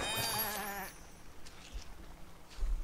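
Sheep bleating in the farming game Wylde Flowers, a wavering harmonic bleat up close for under a second, then fading into quiet ambient farm background with soft rustles and light thumps.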